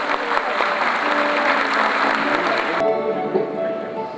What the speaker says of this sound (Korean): 꽃다발을 준비한 우리 어린이와 지사님께 큰 박수 한번 부탁드리겠습니다.